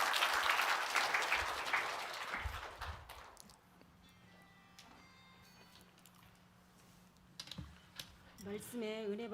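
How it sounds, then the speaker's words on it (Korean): A church congregation breaks into loud, dense applause that fades out within a few seconds, leaving a quiet room with a low hum and faint shuffling before music begins. "우리 참 좋으신 하나님께 영광의 박수 한번 올립시다."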